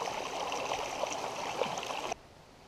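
A mountain creek flows beside a big rock on a climb up Mount Carleton, a steady, close gurgle and rush of water that cuts off abruptly near the end.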